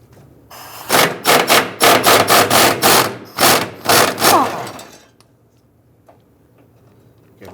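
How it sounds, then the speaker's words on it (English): A ratchet wrench loosens a 13mm bolt on the fuel tank of a 1994-2004 Ford Mustang held up by a gas tank jack. About a dozen loud, rhythmic, close-up clicking bursts are followed by quiet. "On the back side of the tank here, we're going to loosen and remove this 13mm bolt"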